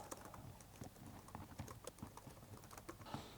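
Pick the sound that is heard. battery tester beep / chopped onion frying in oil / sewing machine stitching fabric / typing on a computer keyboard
typing on a computer keyboard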